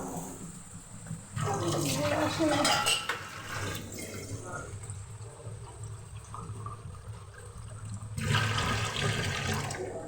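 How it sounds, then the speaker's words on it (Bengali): Water pours into a cooking pot for thick dal, two loud splashing bursts separated by quieter clinks of utensils and kitchen sounds in between. "এই যে জল দিয়ে দিচ্ছি জল বেশি দিব না"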